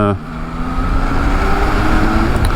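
Road traffic with cars passing, a steady engine and tyre roar that swells as vehicles go by, while a voice talks briefly at the start.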